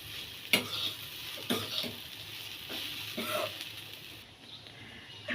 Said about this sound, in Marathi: आणि आपण थोडंसं असं फिरून घेऊया